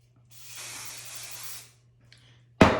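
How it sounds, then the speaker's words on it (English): An aerosol can of hairspray hisses in one continuous burst of about a second onto the side of a hairstyle, then stops. After a pause a short faint spritz follows, and finally a sudden louder thump or clatter. "And then I need to spray this side."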